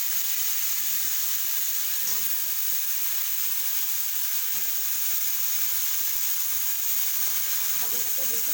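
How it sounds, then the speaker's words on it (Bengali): Potato pieces frying in oil in a pan while being stirred, a steady bright sizzle with occasional soft scraping knocks from the stirring. "আলুগুলোকে আমি বেশিক্ষণ ভাজা করবো না, একটু ভাজা নেড়ে আমি সব ভিতরগুলো তুলে দেবো।"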